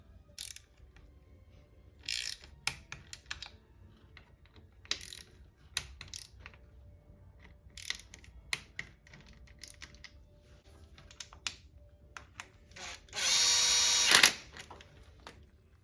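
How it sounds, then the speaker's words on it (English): Torque wrench tightening the clutch cover bolts on a Yamaha Tenere 700, with clusters of close ratchet clicks and metallic taps spread across the stretch, then a brief louder whirring burst near the end; no one talks. "all the clutch cover bolts get torqued to 12 Newton meters"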